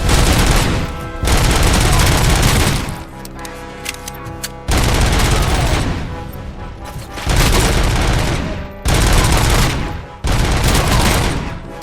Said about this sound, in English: Anti-explosive rounds are cool.